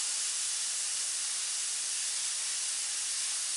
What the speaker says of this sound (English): And we'll spray that black.